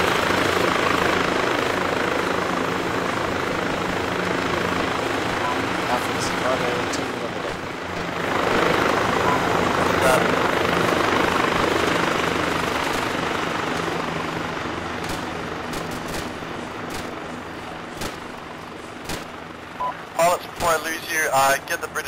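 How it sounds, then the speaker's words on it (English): A helicopter's loud, steady rotor drone in the video game Arma 2 fills the scene, swelling and fading slightly, with radio-style voices talking over it toward the end. "Helicopter."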